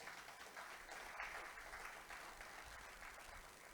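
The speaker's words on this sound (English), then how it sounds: "I thought you would clap for ICSAN." Audience applause at the opening ceremony of a national corporate governance summit, a steady wash of clapping from a large crowd that holds at an even level for a few seconds without a break.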